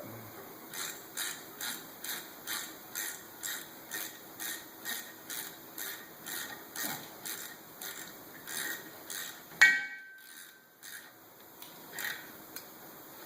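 A hand ratchet clicks in a steady series of about fifteen even strokes while tightening brake caliper guide bolts, then stops with a sharp metallic clink and a few faint handling sounds.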